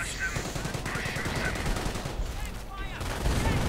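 Artillery and gunfire rumble in a World War II strategy video game, a dense, continuous barrage of booms and crackling shots that fills the whole stretch.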